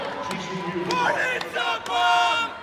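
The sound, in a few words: volleyball crowd screaming in the stands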